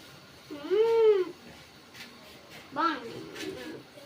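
A cat gives two meows close by, a longer drawn-out one followed by a shorter one after a brief pause.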